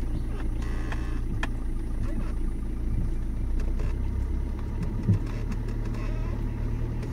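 A car engine hums at a low, steady idle close by, rising slightly as the accelerator is pressed with the clutch released during a driving lesson, continuous and without speech.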